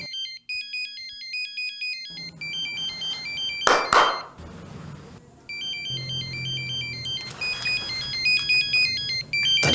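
A mobile phone ringtone plays a loud, repeating electronic melody of bright, evenly stepped beeps. A burst of noise breaks it in the middle, then the same tune resumes and keeps looping.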